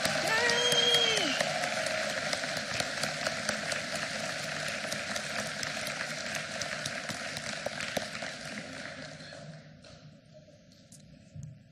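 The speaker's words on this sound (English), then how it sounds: "let's give them a huge round of applause." A crowd at a high school graduation ceremony applauds award recipients, a dense wash of clapping that holds steady and then gradually fades away, with voices cheering faintly over the start.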